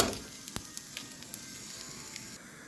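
Meat lightly frying in a pan, about 2 kg being cooked, giving a soft, steady sizzle with scattered small crackles and pops, fairly quiet and with no voices.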